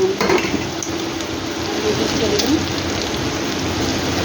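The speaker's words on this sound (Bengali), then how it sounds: "নেড়ে চেড়ে দিই, নাহলে লেগে যাবে।" Jeera rice with peas is stirred in a pan: a constant dense hiss with scraping and light clinks throughout, close and fairly loud.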